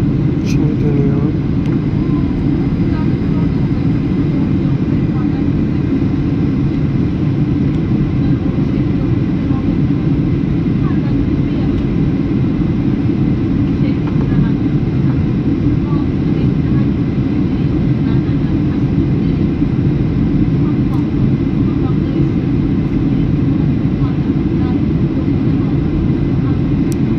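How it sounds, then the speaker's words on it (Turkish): Airliner circling in a holding pattern before landing, heard from inside the cabin as a steady, loud, unbroken engine and air roar with no variation throughout. "Uçak inmiyor da havaalanı galiba dolu,"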